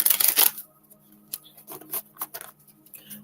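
Oracle cards riffle in a brisk shuffle lasting about half a second, then several softer taps and slides follow as the deck is squared and handled nearby.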